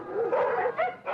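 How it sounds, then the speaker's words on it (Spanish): Dogs from a pack kept on a run-down farm bark and yip in quick, close bursts, loud and alone, with whimpering tones between the barks. "llenando su destartalada granja con una verdadera jauría de perros sarnosos y decenas de gatos"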